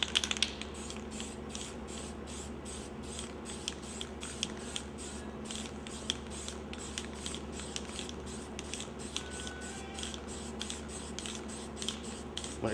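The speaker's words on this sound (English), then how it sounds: "start spraying behind that blue." A can of black spray paint hisses in steady, rapid pulses close by, a fine airy spray with a rhythmic rattling texture and no talk.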